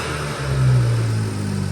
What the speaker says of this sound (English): We'll get some revs in, and we'll see how that sounds with the stock.